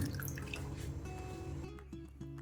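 Water splashes and trickles into a pressure cooker, a close, continuous pouring sound with faint tonal hum underneath.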